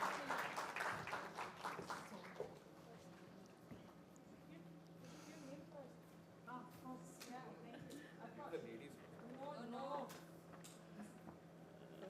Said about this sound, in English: a big round of applause to Ms.